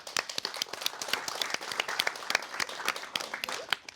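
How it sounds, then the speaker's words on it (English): Light applause from a modest audience at a broadcasting school open evening, individual claps distinct and fairly close, continuing evenly throughout for a journalism intern. "so a round of applause please"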